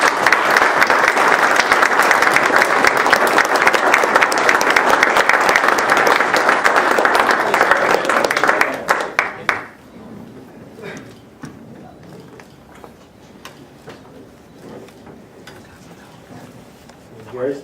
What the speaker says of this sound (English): Please join me in a round of applause for our Employee of the Month